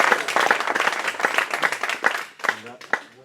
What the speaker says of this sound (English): Big round of applause, that man.